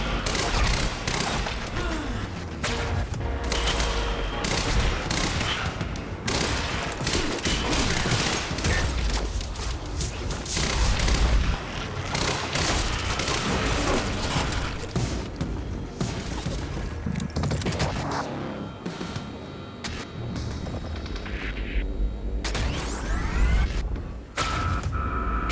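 Tactical SMG gunfire in Quantum Break, repeated loud bursts of automatic fire mixed with thuds, booms and mechanical clatter, dense and continuous through a chaotic firefight.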